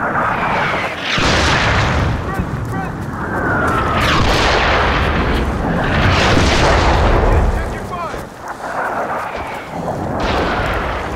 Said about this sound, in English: This is Atlas requesting indirect fire.